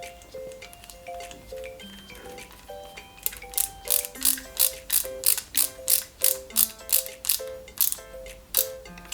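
A small screw being driven into a Lancia 037 scale model ignition distributor, quick rhythmic ratcheting clicks from the screwdriver repeating close up, preceded by faint tinkling mechanical taps.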